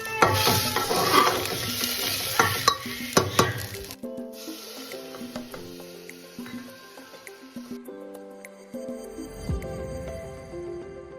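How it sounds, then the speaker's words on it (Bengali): Vegetables stirred in a pressure cooker over a cumin tempering, a loud sizzle with stirring scrapes for the first few seconds, then a quieter, fainter background of sizzling. "একটুখানি জিরে ফোড়ন দিয়ে তার মধ্যে সব সবজিগুলোকে সামান্য নাড়িয়ে"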